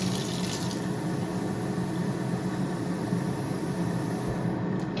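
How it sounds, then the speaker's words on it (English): Hot water from a kitchen tap runs steadily into a bowl, a continuous close splashing rush that holds without a break and stops near the end. "So I'm going to fill the bowl with the hot water from the tap."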